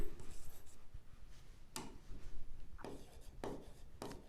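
Chalk or marker strokes on a board during a class 9 algebra lesson on financial planning, with a series of short scratchy writing strokes and taps, close and fairly quiet, with no talking.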